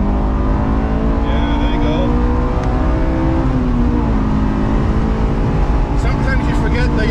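An Acura NSX or Honda S2000 accelerates hard through the gears to redline, a loud, continuous engine drone heard from inside the car, with people talking over it.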